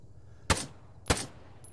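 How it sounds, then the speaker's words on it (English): Distant gunfire in the video game ArmA 3, two sharp single shots about half a second apart against a quiet background, with a faint third crack at the end. "Still some gunfire coming from back over this way."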